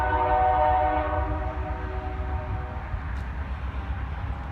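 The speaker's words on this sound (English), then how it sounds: "That's the train." A passing train sounds a long, loud horn with layered tones that fades after about three seconds, leaving the steady rumble of rolling cars alone in the distance.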